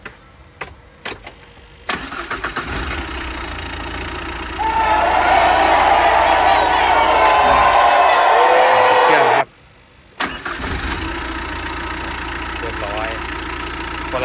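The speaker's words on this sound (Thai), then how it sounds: "เดี๋ยวเรามาติดเครื่องดูนะฮะ" Engine start on a Tata Super Ace small truck after timing marks and belts were redone: cranking leads into a loud, steady running engine close by, with a brief cut and restart near the end and some talk around it.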